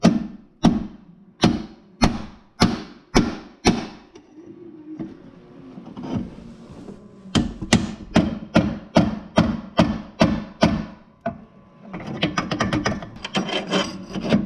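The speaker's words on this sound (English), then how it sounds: "kept hitting it from the opposite side until the wheel bearing comes out" A punch is hammered to drive the rear axle wheel bearing out of a 1983 Honda Big Red three-wheeler: sharp metallic strikes in quick, evenly spaced bursts, a brief pause, then a faster run of blows, close and loud.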